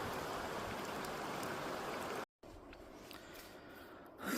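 A river stream flows steadily through forest in the Chincholi wildlife sanctuary, Karnataka, a continuous broadband rush of water with a brief dropout midway, then resuming slightly quieter.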